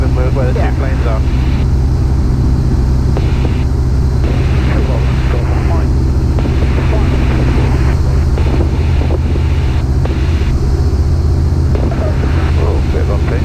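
Light aircraft G-CMLX in flight, its engine a loud, steady low drone heard from inside the cabin under heavy wind buffeting, with a person talking over it throughout.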